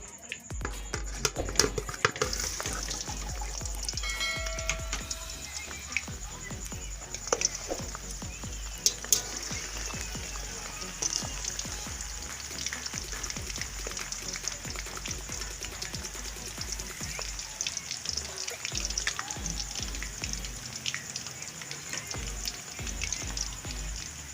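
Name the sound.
kofta frying in oil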